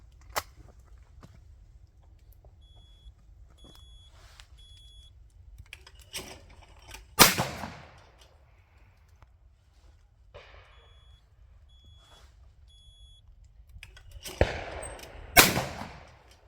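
Shotgun shots fired at clay targets with the swing-through lead method, two or three sharp, loud reports spread apart with quiet pauses and faint rustling in between.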